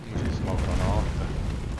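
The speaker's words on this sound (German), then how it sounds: "Wir schießen mal Granaten." Grenade blasts in the World War II shooter Enlisted during an online battle, heavy booming rumble sustained under a voice speaking German.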